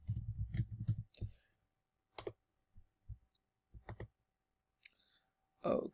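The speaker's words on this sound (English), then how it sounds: "I can't type very well today." Clicks from typing on a computer keyboard come in short, irregular clusters with quiet gaps between them, close and fairly faint, with no talking.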